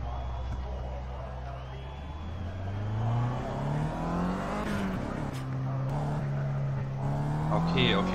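A car engine in the racing game Project CARS, revving and climbing through the gears as the car pulls away from a short pit lane, loud and continuous with someone talking over it.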